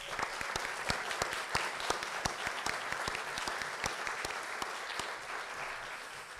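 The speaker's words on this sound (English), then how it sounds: "let's have a round of applause for the nation's premier Department of Radiology" An audience gives a round of applause for a Department of Radiology at an investiture ceremony, steady clapping with individual sharp claps standing out, moderately quiet and continuing for several seconds.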